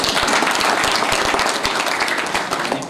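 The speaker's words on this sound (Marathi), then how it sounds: "एकदा स्वतःसाठी तुमच्यासाठी टाळ्या वाजवा" A crowd at a 1995-batch school reunion claps continuously for a few seconds, a dense patter of many hands that fades slightly toward the end.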